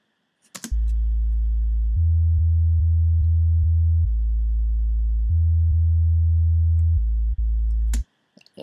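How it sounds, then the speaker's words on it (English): Low synth bass line in a beat, played by ear, sustained tones shifting between a few notes in steady blocks, loud and alone with no drums or voices. "That's the bass line."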